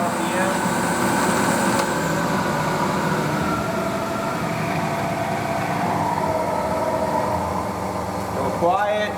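A Clausing 20-inch variable speed drill press running at full speed, giving a steady whirring motor and spindle hum that holds loud and even throughout while someone talks over it.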